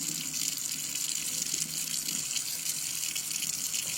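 Tap water runs steadily into a sink for a rinse after teeth whitening strips, a continuous close splashing hiss with no talk.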